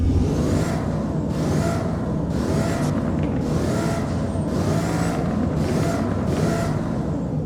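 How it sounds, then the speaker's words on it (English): Jaguar car engine in the video game Driving Empire revved repeatedly: about seven rhythmic surges rise and fall over a low, continuous engine rumble, loud and close with no voices. "Alright, now here are the revs."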